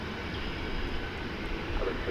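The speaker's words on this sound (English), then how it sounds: "American Flight 1154 off to Los Angeles, California. Roaring off. It's an Airbus A321." An American Airlines Airbus A321 jet roars off the runway at DFW Airport at daybreak, a steady, broad engine rumble that holds evenly throughout without a break.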